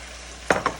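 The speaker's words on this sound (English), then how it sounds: "You add the cheddar, and then you just mix it up, right? Mix it right into that pasta." Cheddar cheese being stirred into lobster mac and cheese pasta in a pan, giving two brief close scraping, sloshing strokes over a quiet background.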